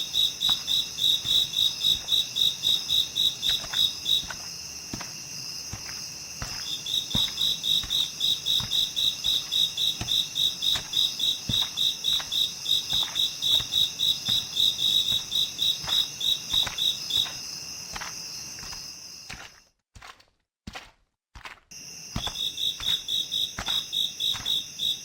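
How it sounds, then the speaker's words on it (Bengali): Crickets chirping on a foggy night near a bamboo grove, a dense, steady pulsing trill that drops out briefly near the end before resuming, with no voices. "কুয়াশা জমেছে আর ঝিঁঝি পোকার শব্দে"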